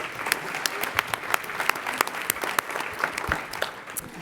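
An audience at a school health award ceremony gives a round of applause, with dense, lively clapping that stays steady and close for the whole stretch.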